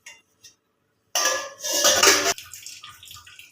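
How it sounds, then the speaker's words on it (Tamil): Water poured into a pan of fish curry with tamarind, chopped tomato and green chilli: a close, splashing pour of just over a second, after a couple of light kitchen clinks, then quieter sizzling. "தேவையான அளவுக்கு தண்ணி ஊற்றிக்கலாம்."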